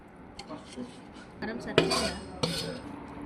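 Mango pieces are tossed with chili powder and oil in a large bowl for pickle, giving a series of clinks and scrapes of utensil against the bowl, growing louder midway, with faint background voices.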